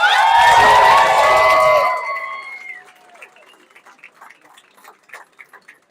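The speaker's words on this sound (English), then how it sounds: "I want you to give a round of applause to Ed Carroll for the amazing job he did" Crowd applause and cheering at an election night watch party for Colorado Democrats, a loud burst of clapping and whoops with tonal shouts that fades after about two seconds into scattered, sparse claps.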